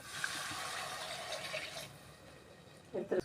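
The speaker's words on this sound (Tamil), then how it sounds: "அரை லிட்டர் தண்ணி ஊற்றுறோம்." Half a litre of water poured into a pan of vada curry with spices, a steady splashing gush for about two seconds that then fades, followed by a couple of brief clinks.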